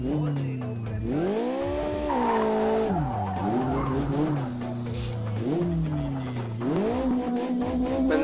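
A tuned race car engine in Live for Speed revs hard, its pitch sweeping up and down through gear changes, loud and close with a synthetic, game-like tone.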